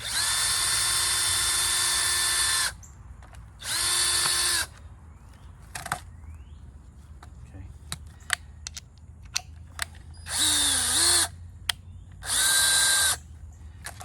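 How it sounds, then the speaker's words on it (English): A power drill whines in four loud bursts of a few seconds each, drilling a hole in a plastic bottle cap, with quiet clicks and small handling noises in the pauses between them. "I just want to just drill one hole in the top of the cap"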